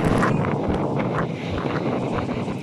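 Strong wind gusts buffet the microphone in Torres del Paine near the Paine River, a rough continuous roar rising and falling, loud and close, with no speech.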